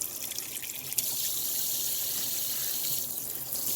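Kitchen tap runs steadily as water wets a pair of halved magic erasers, a continuous close hiss of flowing water with a brief splash near the start and no talking.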